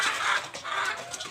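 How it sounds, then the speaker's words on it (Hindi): Golden Misri hens clucking close by in a poultry pen, a steady run of short overlapping calls over about a second and a half with no talking. "आज की जो हम वीडियो बनाने जा रहे हैं वो है गोल्डन मिस्री मुर्गी"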